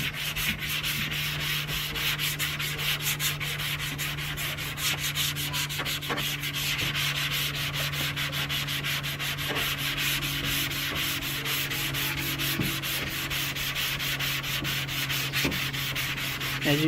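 Steady, continuous abrasive scrubbing of a sanding block worked back and forth across the hood of a 1979 Honda Prelude during paint prep, close and even in level with no talk.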